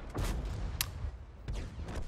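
Tank cannon fire in World of Tanks, with a few sharp booming shots spaced across a couple of seconds, each a broadband blast with a short rumbling tail over a low steady background.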